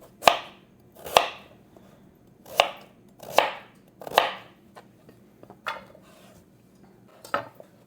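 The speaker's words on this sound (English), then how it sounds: "I'll cut that into thirds and then into chunks" Knife chopping food into chunks on a cutting board, eight or so sharp distinct thuds spaced about a second apart, close and clear with a quiet background and no talking.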